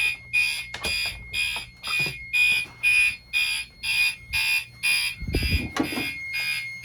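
A building fire alarm sounds during a routine test, loud repeating electronic tones in regular pulses about once per second, with a few clicks and a brief low thump near the end.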